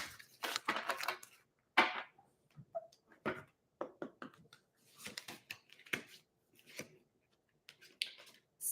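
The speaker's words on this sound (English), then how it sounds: "This will be the last shuffle." A series of soft, crisp riffles and taps of tarot cards being shuffled, close up, in irregular bursts with brief pauses between them, no voices.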